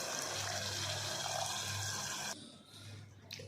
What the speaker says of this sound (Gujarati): હવે આપણે તેમાં પાણી ઉમેરી દઈશું।